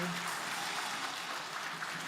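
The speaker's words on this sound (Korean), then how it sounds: "박수 부탁드리겠습니다" A church congregation at a Christmas morning service claps for district prize winners. The clapping is soft and continuous, a fairly distant wash of many hands with a murmur of voices beneath it.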